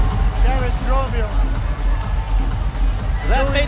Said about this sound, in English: Drawing applause from the crowd.